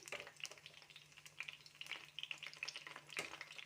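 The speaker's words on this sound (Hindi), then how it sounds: "इसके अंदर धीरे धीरे हम बैंगन डालने स्टार्ट कर देंगे और इसे शैलो फ्राई कर लेंगे।" Eggplant pieces shallow fry in oil in a pan, giving a soft, steady sizzle dotted with small crackles and pops, fairly quiet and close with no talking.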